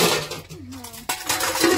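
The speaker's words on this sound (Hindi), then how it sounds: "मम्मी बर्तन धो के चाय बनाने के लिए जाएगी।" Dishes and pots being washed at home, with clattering metal utensils and clinks under running water in a busy, close-up burst of kitchen noise.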